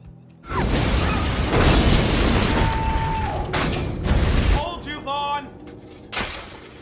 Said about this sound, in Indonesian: mobil dinas Chris pun meledak